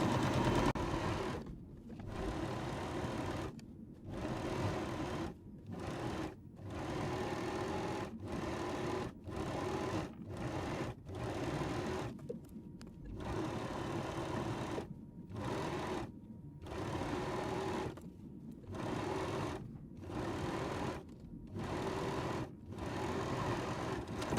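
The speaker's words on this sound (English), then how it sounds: "Turn your sewing machine on, always a mistake that I make, and just sew down one complete long seam with about a 5mm seam allowance." Sewing machine stitching one long seam with a 5mm allowance on a drawstring bag, a steady close whir that runs in repeated bursts with brief stops between them.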